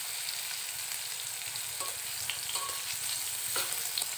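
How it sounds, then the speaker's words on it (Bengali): Pointed gourd frying in a pan, a steady close sizzle of hot oil with faint stirring clicks throughout and no talking. "তো আগে ভেজে নিই পটলটা"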